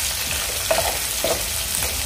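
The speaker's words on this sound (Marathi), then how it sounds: "आता यामध्ये मी कांदा आणि कढीपत्ता घालून घेते।" Finely chopped onion and curry leaves frying in a pan, a steady close sizzle with a few soft stirring clatters.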